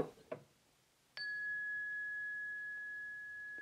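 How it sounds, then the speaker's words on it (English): A mindfulness bell rings once in a quiet lecture room, a clean struck tone that sustains steadily for several seconds after a brief murmur of sound. "you're going to hear this bell."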